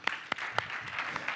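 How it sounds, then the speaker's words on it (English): Conference audience in Warsaw applauding, a brief patter of scattered claps at moderate distance with a few sharper individual claps standing out. "give yourselves a round of applause"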